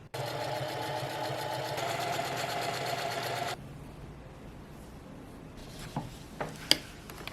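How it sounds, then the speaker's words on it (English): Sewing machine stay-stitching the armholes and neckline of a bodice, a steady close motor hum with fast needle rhythm that runs evenly for about three and a half seconds, then stops, leaving a quiet room with a few light handling clicks and taps. "Stay stitch armholes and neckline."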